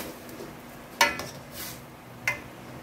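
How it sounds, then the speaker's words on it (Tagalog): Chicken pesa being stirred in a cooking pot, with a couple of sharp metallic clinks of a spoon against the pot over a faint background hum of simmering liquid. "Ihalo po muna siya."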